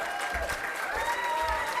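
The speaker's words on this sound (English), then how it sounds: "I said amazing, amazing applause." A crowd at the Africa Prize for Engineering Innovation final keeps up steady, dense applause, the clapping a continuous mid-volume wash with faint tonal sounds threaded through and low thumps underneath.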